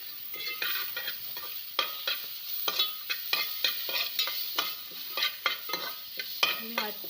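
Tomatoes frying with onion and coconut in a pan over a village wood-fired stove, a soft steady sizzle broken by repeated scraping stirs of a spoon against the pan, with no talk.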